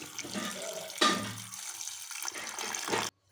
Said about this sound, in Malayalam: നമുക്ക് കുറച്ച് വെള്ളവും കൂടെ ചേർത്ത് കൊടുക്കാം